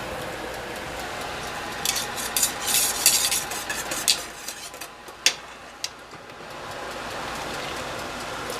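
A spoon stirs a pot of boiling passion fruit and dragon fruit jelly, giving a steady bubbling hiss broken by occasional scrapes and clinks against the pot, close by and with no talk.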